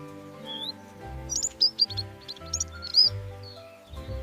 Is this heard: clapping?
no